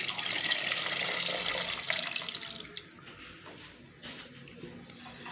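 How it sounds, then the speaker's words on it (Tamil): Tamarind water pours into a simmering fish curry in a home kitchen, a close splashing, trickling stream that is strongest at first and then thins into softer intermittent drips. "இப்போ புளி தண்ணி நம்ம சேர்த்துப்போம்"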